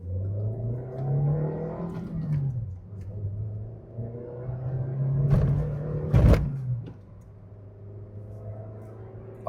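A Suzuki SX4 all-wheel-drive car accelerating on twisty roads, its engine droning and rising in pitch through the gears, easing off briefly and climbing again, with a sharp knock partway through.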